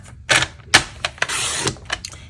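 Cardstock being scored on a paper trimmer for a standard-size card: a few sharp clicks and snaps, then a short scraping pass of the scoring blade, close up and with no talk.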